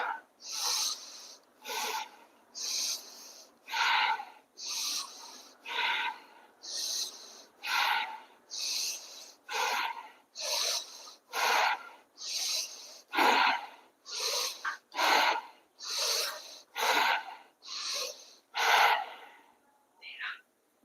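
Deep rhythmic breaths during a finger stretching exercise, about eighteen loud, close inhale and exhale bursts in an even, slightly quickening pattern, heard alone without talk.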